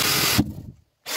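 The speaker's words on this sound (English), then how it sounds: "that drill bit that's coming through is sharp" Power drill boring a bit through a canoe hull, a harsh grinding whir that runs briefly, then drops out and restarts after a short silence.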